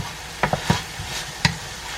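Garlic cooking in a pot for Cajun jambalaya: a few scattered stirring scrapes and soft clinks over a low, quiet sizzle, with no talking.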